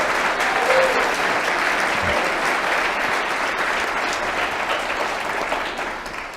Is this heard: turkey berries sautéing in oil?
no